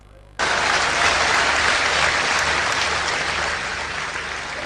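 An audience bursts into applause at a religious talk, starting abruptly and holding as steady, dense clapping that eases slightly toward the end.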